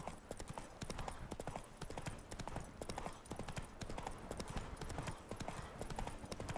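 Roach the horse gallops through The Witcher 3, hooves pounding in a fast, steady clip-clop rhythm that runs loud and close for the whole stretch, with faint talk over the top.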